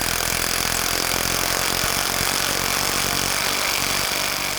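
A power tool tightening a front lower control arm bolt on a 2000-06 GMC Yukon, a loud continuous whirring, rattling drive held steadily and close for several seconds.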